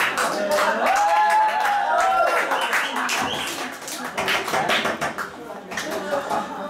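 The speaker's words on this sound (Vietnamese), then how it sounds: "Cảm ơn các anh chị và tràng pháo tay để khích lệ." An audience at a live music show claps in a short, dense burst that fades out, overlapping the last held tones of a voice or instrument.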